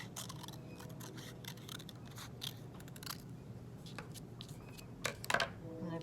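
Scissors snipping through construction paper in a string of soft, close, irregular cuts, with a crisper cluster of snips near the end, during a first-grade craft project.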